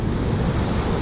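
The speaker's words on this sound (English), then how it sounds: "See, this is the ever-changing Pacific Ocean." Pacific Ocean surf washing over a rocky beach, a steady loud roar of water with wind buffeting the microphone, continuous and without talk.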